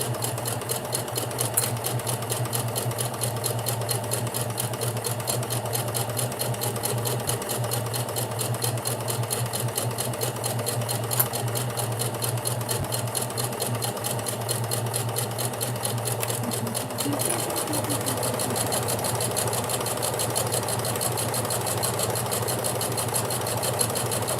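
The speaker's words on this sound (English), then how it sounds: "It's cool how the machine just kind of propels it on its own." A home sewing machine runs steadily while stitching fabric, a close, continuous mechanical whir with a fast, even rhythm and no pauses, heard alone at night.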